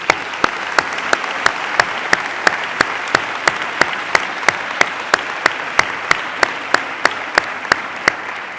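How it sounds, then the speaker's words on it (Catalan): Audience applause at a science contest award ceremony, a steady wash of clapping from a sizable crowd mixed with sharp, evenly spaced ticks throughout, loud and continuous. "demani a tots els assistents un fort aplaudiment per a tots ells"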